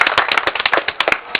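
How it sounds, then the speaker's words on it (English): A small crowd claps for a local legend and former DJ and promoter at a plaque unveiling, a brief burst of loose, uneven hand claps with sharp individual slaps, close and lively, with no talk over it. "Ladies and gentlemen, round of applause for the man."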